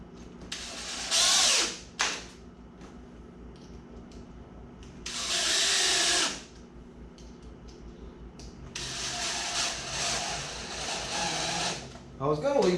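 A power drill drives screws into a wooden gate frame from an Adjust-a-Gate kit in three loud whirring bursts, close by, with someone talking in the quieter gaps.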